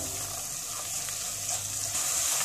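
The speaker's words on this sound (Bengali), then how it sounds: "এবার কিছু সময় মশলা একটু নেড়ে চেড়ে কষিয়ে নিতে হবে" Ground ginger, coriander and cumin being stirred and fried in oil for a Bengali fish curry, a steady close hiss of sizzling with soft stirring scrapes underneath, with no talking.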